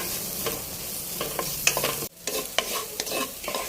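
Grated coconut with garlic and fenugreek is stirred in a pan for Kerala-style bitter gourd curry, a continuous close sizzle broken by repeated scraping strokes and a brief dip midway; no talking.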